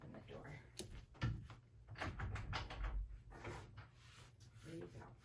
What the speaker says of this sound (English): Come on, let's open the door.